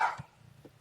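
A dog gives a single short bark near the start, followed by faint low noises and quiet yips.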